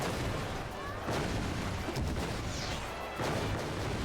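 Bombs go off in a Final Fantasy XIV battle: a run of heavy, booming blasts and crashes, loud and close, with a brief lull before more explosions follow.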